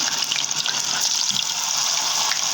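Plantain pieces frying in hot oil, a steady dense sizzling hiss that runs unbroken and fairly loud throughout, close by with no voices.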